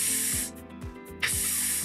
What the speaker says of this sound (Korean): the sound of the air rushing out as he pulled the tab off the can